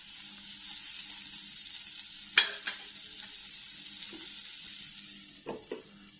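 A spoon scrapes and stirs bitter gourd fry with crushed garlic in a pan. Two or three soft clinks and scrapes stand out over a faint, steady sizzling hiss, quiet and close.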